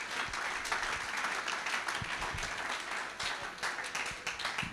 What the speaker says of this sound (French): Acclamez Jésus. Acclamez Jésus.